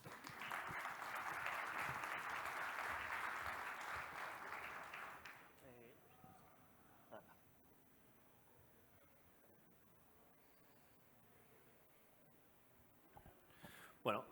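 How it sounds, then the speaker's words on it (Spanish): An audience applauds to welcome a security researcher onto the stage at a talk on prompt injection. The applause is steady for about five seconds, then breaks off, leaving a quiet room with faint shuffling and a little noise at the very end. "aplauso para recibirlo a Martín"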